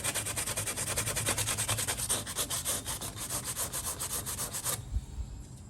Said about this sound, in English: I've got the 400 grit sandpaper here that they give you.